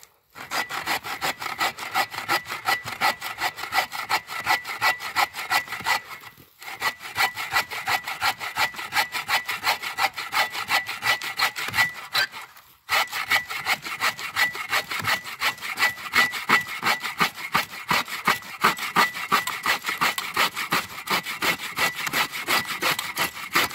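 Agawa Canyon Boreal 21 folding saw cutting dry firewood, with rapid, rhythmic rasping strokes running steadily and close, broken by two brief pauses between bursts of sawing.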